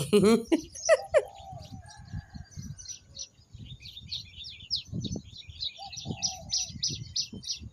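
Birds chirp and tweet steadily in the morning background, a mix of high twittering calls with a few louder calls near the start, outdoors with faint rustling.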